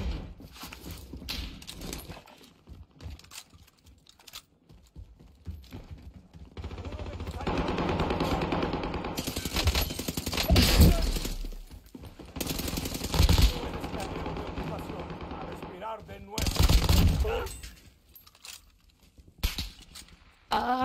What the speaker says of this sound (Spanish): me están disparando